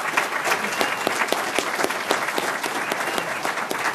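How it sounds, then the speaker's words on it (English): A crowd at a municipal candidates' forum in Park Forest gives the candidates a rousing round of applause. The clapping is loud, dense and sustained throughout with no talk over it. "let's give a rousing applause to all of our candidates"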